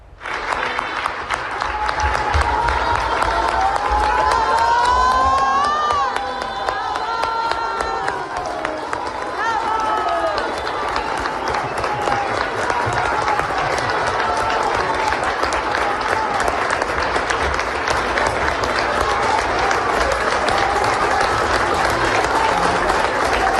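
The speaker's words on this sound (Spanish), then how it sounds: "Norma Piña, fue recibida con aplausos por parte de los trabajadores del máximo tribunal" Court workers at Mexico's supreme court applaud Norma Piña after her resignation, a loud, sustained round of crowd clapping with cheers and voices mixed in, continuing steadily throughout.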